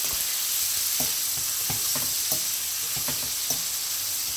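Baby shrimp frying in a pan for Jamaican-style shrimp and chicken fried rice, giving a steady close sizzle and hiss with light, irregular stirring clicks throughout.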